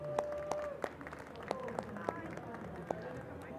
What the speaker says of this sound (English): Round of applause for Lana, guys.